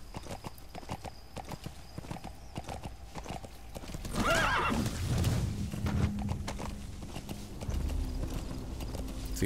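A horse in the Metal Gear Solid 5 game trots with steady clip-clop hoofbeats, then gives a loud neigh midway, followed by a lower snort as the hooves continue over quiet ambient background.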